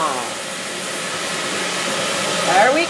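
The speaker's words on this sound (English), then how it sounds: "squirt some water there. Get some steam going." Steam hisses steadily under a burger dome after water is squirted onto a hot cooking surface, a loud, broad sizzling rush, with a brief voice near the end.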